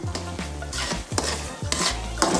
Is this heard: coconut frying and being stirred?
yes